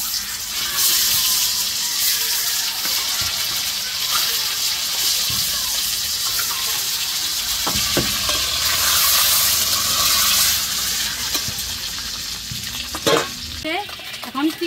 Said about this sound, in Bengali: এখন এই যে গোটা জিরে আর তেজপাতা দিয়ে দিলাম।